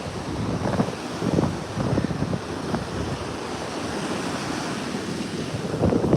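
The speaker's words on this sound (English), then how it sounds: "Wind's blowing a little bit too hard." Strong wind buffets the microphone at a beach while waves wash and roar steadily close by, a continuous loud rush of surf and gusts with no talking.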